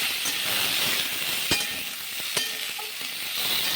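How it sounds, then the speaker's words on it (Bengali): Potatoes and pointed gourd frying in a pan for a Bengali dalna, a continuous close hiss and sizzle with two sharp spoon taps midway, no speech. "আলু আর পটল প্রায় ভাজা হয়ে গেছে।"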